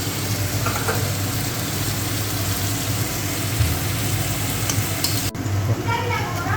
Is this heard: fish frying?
yes